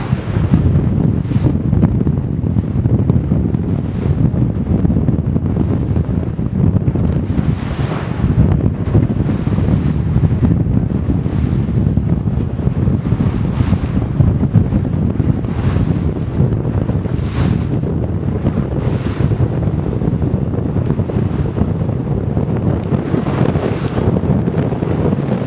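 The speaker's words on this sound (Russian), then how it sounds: "ветер начался, сильный, встречный" Strong headwind at sea buffets the microphone in gusty, rumbling bursts over a constant roar of sea and waves, loud and unbroken throughout, off Thailand between Kura Buri and Ko Surin.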